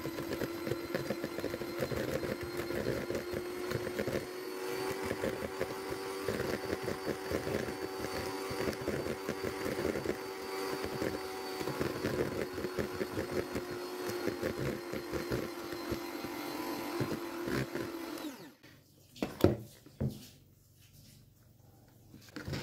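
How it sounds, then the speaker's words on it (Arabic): An electric hand mixer whips cream for a no-bake Lotus cheesecake: a steady, whining motor hum with a fixed pitch runs for about eighteen seconds, then cuts out, leaving a few faint clicks and knocks. "خديت هاد الطراب وغنبدا نطربو بشويه بشويه"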